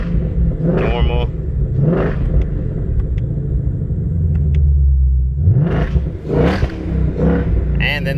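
A 2020 Ford GT500 in normal exhaust mode rumbles close by, its deep engine note swelling in a few revs between steadier stretches, while a person talks over it.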